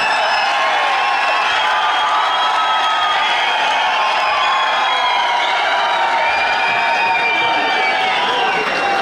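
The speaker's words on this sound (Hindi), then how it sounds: "जोरदार तालियां" Dense, steady crowd noise fills the whole stretch, a sustained wash of clapping and cheering from a large audience with no pause.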